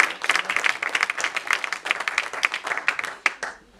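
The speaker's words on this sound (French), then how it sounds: "Un applaudissement s'il vous plaît." An audience claps loudly and steadily at a school event, a dense patter of many hands that holds for several seconds and then tapers off at the end.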